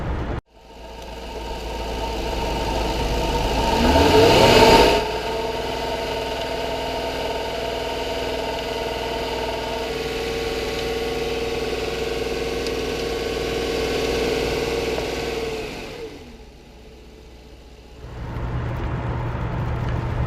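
A Jaguar XJ8 engine starts and revs up, then idles smoothly and steadily for a long stretch before cutting off and starting again.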